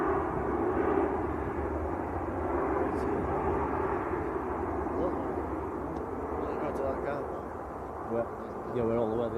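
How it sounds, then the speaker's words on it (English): A Lufthansa Airbus A320 at Manchester Airport rumbles with a steady, broad jet roar at moderate distance, persisting under people chatting nearby. "Lufthansa A320."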